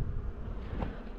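A dense, steady buzz of honey bees around busy, booming beehives, close by and moderately loud, with no talking.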